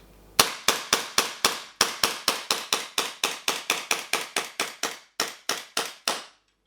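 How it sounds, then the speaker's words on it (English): Secutor Magna CO2 pistol fired rapidly into a box: about twenty-four crisp, close, sharp snaps in a steady quick rhythm with short pauses, each cracking then decaying fast, alone with no talk. "I'm going to whack a load of rounds into this box."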